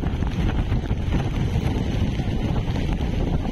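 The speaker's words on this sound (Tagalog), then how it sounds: "Nag-iba na yung hangin, no?" Strong typhoon wind during Super Typhoon Pepito on the coast at Dinahican, Infanta, Quezon, a loud, continuous roar buffeting the microphone without letup.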